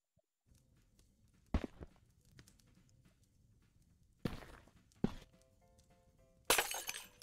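Glass smashing in a video game, a few separate bright crashing bursts, the last one loudest, over a quiet background with soft footstep-like taps and no talking.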